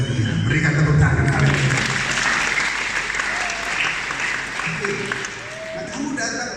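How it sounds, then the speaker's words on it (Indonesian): A church congregation at a Sunday service breaks into sustained, loud applause that fills the room, fading slightly toward the end while a voice carries on over it. "Berikan tepuk tangan."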